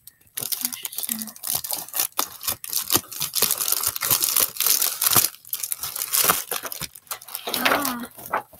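Packaging around warrior cat books being cut and torn open, with crinkling plastic and irregular tearing and rustling up close, while a person talks at times.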